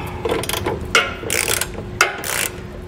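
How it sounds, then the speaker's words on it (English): Ratchet fitted with a 19 mm socket tightening the nuts on a trailer hitch receiver being mounted on a 2018 Chevrolet Equinox, giving several short bursts of quick metallic clicking close to the microphone with brief pauses between them. "then you can snug them up with the socket"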